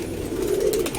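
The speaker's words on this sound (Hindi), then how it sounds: "जब से कबूतर पाले हैं हमने, कबूतर तो बहुत भागे हैं" Pet pigeons cooing at close range, a soft, low throaty coo that swells and fades within a second, heard alone without speech.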